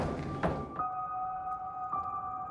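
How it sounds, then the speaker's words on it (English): A door bangs inside a London Underground train running through a tunnel: one heavy thunk, then a steady metallic hum that cuts in and swells again, over a constant low rumble. "I love the noise that the door makes. It's going to bang again."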